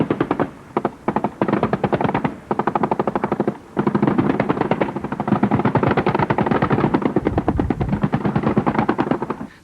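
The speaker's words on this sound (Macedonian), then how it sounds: "оклопни возила кои пукаа во замислени цели" Armoured vehicles of special police units fire at imaginary targets on the Penuš training range. Loud, rapid bursts of automatic gunfire come in short strings with brief pauses, then a long sustained burst, with no voices.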